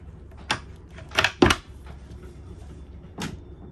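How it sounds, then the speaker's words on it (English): A few short knocks and clunks of the side door on a 2021 Jeanneau Merry Fisher 795 Series 2 boat being opened and shut, with a pair of quick thuds in the middle and one more later. "Nice new feature is a side door."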